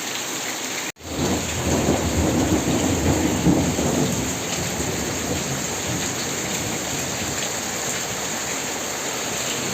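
Steady heavy rain pours down while a low roll of thunder rumbles through, swelling and easing, with no voices.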